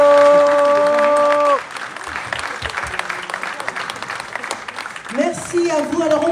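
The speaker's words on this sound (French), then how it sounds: "Sous vos applaudissements, n'hésitez pas vraiment." Audience applause at the Lumumba Awards 2025 trophy ceremony as an association receives its trophy, a broad wash of clapping following a brief musical tone, with a voice speaking near the end.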